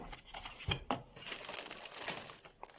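Packaging is torn and unwrapped from a new carbon steel frying pan, giving close crinkling and crumpling with a few sharper rustling bursts, and no talking.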